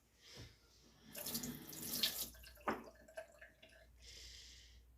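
Tap water running over hands at a sink while liquid eyeshadow is washed off, with splashing, rubbing and dripping in bursts and short pauses, close and without talk.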